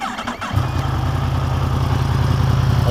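A warm Yamaha MT10 roadster motorcycle engine settles into a steady, loud, deep idle after a brief quieter moment, its low rumble throbbing evenly and close by with no talking.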